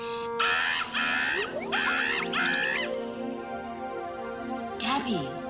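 A human voice imitates a frightened palm cockatoo's harsh, raspy screech in several short, strained bursts, loud and close.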